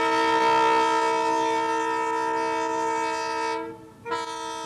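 A passenger train at the Milbank Train Festival sounds a long, loud, steady horn blast that holds near and strong, then cuts off briefly before a short renewed burst.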